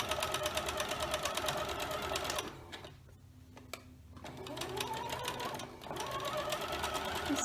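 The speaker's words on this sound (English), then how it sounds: "So I'm going to start stitching directly on the diagonal line." Sewing machine stitching fabric squares along a diagonal line for a scrappy Thanksgiving quilting project, running steadily and close up, then pausing for a couple of seconds and starting again.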